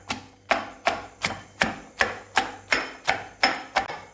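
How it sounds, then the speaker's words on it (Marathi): Green chili, ginger and garlic pounded in a mortar and pestle, about eleven sharp, evenly spaced thuds in a steady rhythm, close and clear with no talking. "आता हिरवी मिरची, आलं आणि लसूण हे आपण खलबत्त्यात चेचून घ्यायचं आहे"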